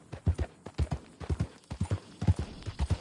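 Horse hooves clip-clop in Red Dead Redemption 2 as a borrowed horse travels at a steady walk. The close, rhythmic paired beats carry on continuously with no talk over them.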